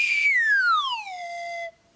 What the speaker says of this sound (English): Very often the sound is made by a swanny whistle, one of these, in which the pitch changes like so.